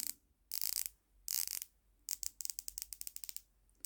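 A San Martin 1000m diver's 120-click bezel rotated close up: two dense bursts of fast clicking, then a run of distinct, evenly spaced single clicks, crisp and quiet with no talking.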